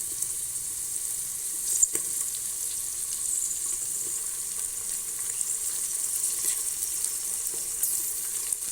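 Tomatoes sizzle faintly in a hot pan while vegetable biryani cooks, a soft steady hiss with a couple of small clinks, no talking.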